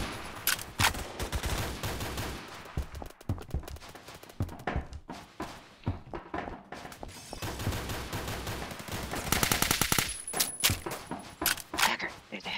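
Gunfire in a Roblox shooter rattles in rapid, dense bursts of pops and shots, moderately loud and continuous, with occasional game clinks mixed in.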